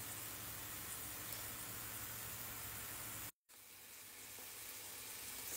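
Beef steak frying in a pan with onion set aside, a steady hissing sizzle with a brief dropout partway through before the sizzle resumes, constant and close.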